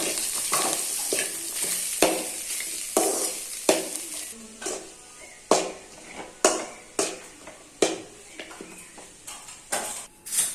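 Green peas and mashed potato being sautéed in a pan for a samosa filling: a steady low sizzle broken by repeated sharp scraping stirs of a spoon against the pan, near and alone.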